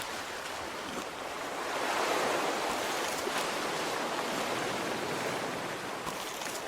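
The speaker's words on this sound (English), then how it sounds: "Hear the soft sound of the waves" Soft ocean waves wash steadily in a pirate video game, Captain Bones, a continuous broadband surf that swells slightly midway and holds at a gentle, even level with no voices.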